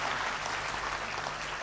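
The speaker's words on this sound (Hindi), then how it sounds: "उस पर आपकी तालियां मिलेंगी" Applause from a live audience at a Hindi comedy and entertainment stage show, a dense steady wash of clapping filling the whole short moment with no voices over it.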